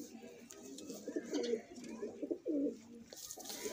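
Pigeons cooing close by, several soft throaty rolling coos repeating in short bursts over a quiet background with faint chirps.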